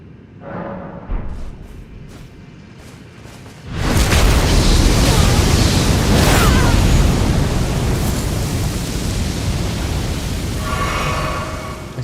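Explosive weapon effects in the video game Elden Ring, a sudden loud burst at about four seconds that becomes a sustained roaring rumble, loud and continuous to the end, with quieter game sounds before it.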